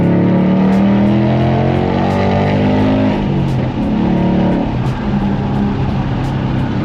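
A Ford Mach 1 Mustang with an H-pipe and factory active quad-tip catback exhaust rumbles loudly and steadily up close, a deep continuous engine drone with slight shifts in pitch as it runs.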